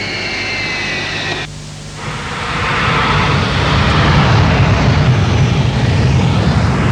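RAAF Mirage jets taxi before dawn on a military airfield, producing a loud, steady jet engine roar that dips briefly and then swells into a dense, continuous rushing drone.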